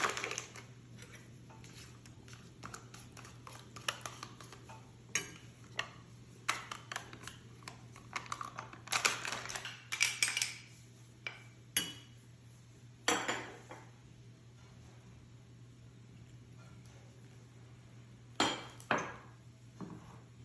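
Utensils clink and scrape in a bowl as shawarma filling ingredients, including fried potato, are mixed together, in sporadic close taps and clatters over a low steady hum.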